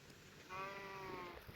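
A single sheep bleat from the game Minecraft, heard alone as one wavering, moderately loud call lasting about a second over a faint background.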